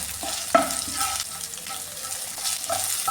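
Okra frying and being stirred in a pan for vendakka pachadi, a steady soft sizzle with scraping stir sounds and a sharper clink near the start, no talking.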